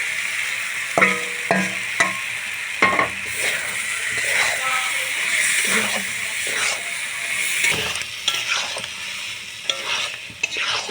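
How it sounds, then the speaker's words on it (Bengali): Dal poured into hot, sizzling spices in a pan for a winter vegetable dal, giving a steady hiss and fry with repeated scraping and stirring clinks throughout and no speech. "আমি ডালটা ঢেলে দেবো এতে"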